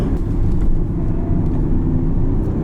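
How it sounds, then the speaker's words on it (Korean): An Audi A7 50 TDI quattro diesel accelerates at full throttle on a winding road, a loud, steady low engine drone heard from inside the car with no talk. "풀악셀입니다."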